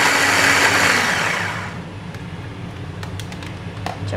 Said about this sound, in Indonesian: jadi kita blender